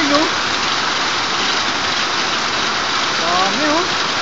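Hail pelting down steadily in Abha, Saudi Arabia, a dense rattling patter close by, with people chattering excitedly over it.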